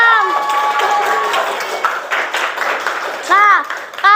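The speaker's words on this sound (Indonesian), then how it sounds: "Tepuk tangan untuk kelompok 6" Classroom applause for group 6 during a teaching-practice lesson: a burst of clapping mixed with excited children's voices and shouts, fairly close and lively, with high calls rising near the end.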